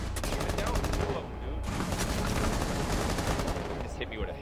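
Rapid automatic gunfire in the tactical shooter game Rainbow Six Siege, dense loud bursts of shots filling the whole span with a brief gap partway through.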